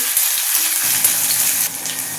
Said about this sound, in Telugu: ఈ కోసి ఉంచుకున్న ఉల్లిపాయ ముక్కలు, పచ్చిమిర్చి, కరివేపాకు ఇవన్నీ వేసి కొంచెం వేగనిద్దామండి.